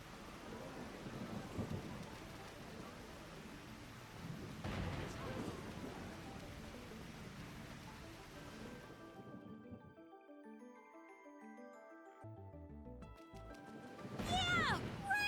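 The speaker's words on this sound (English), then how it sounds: "Storm? Finally, some rain." Steady rain hisses with low rumbling thunder rolling through, then the storm cuts out to soft game music tones before the rain surges back loud.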